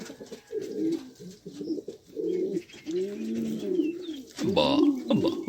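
Cooing of a hunting pigeon repeats in several soft, throaty phrases close by, mixed with a few higher chirps and someone talking at intervals.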